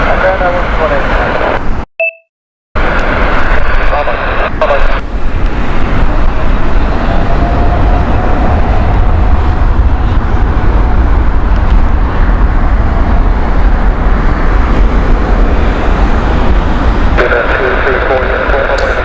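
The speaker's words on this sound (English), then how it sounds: "New Orleans flight next, 787-10, this one, British Airways, Speedbird 224 uniform" British Airways Boeing 787-10 airliner at Heathrow Airport, a steady, loud engine roar that holds for the whole stretch after a brief cut near the start, with someone talking over it.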